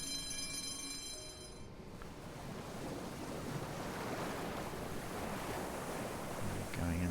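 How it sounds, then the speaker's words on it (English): In a video game, a U-boat dives: a rushing, surging wash of water with a whooshing swell that stays steady and fairly loud throughout. "It's always nice to watch the U-boat dive."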